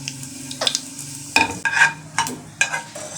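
Curry leaves, cumin and mustard seeds hit hot oil, giving bursts of crackling sizzle and spitting pops alongside a spoon scraping and stirring in the pan, close and fairly loud.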